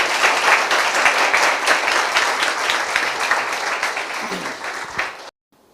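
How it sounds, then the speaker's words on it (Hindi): An audience at a Christian worship gathering claps loudly in sustained applause that carries on for several seconds, then cuts off abruptly. "आइए उसके लिए ताली बजाएंगे हम जोर से।"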